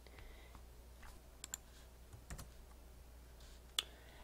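A password is typed on a computer keyboard, a few faint, sparse key clicks with one sharper press near the end, in an otherwise quiet room.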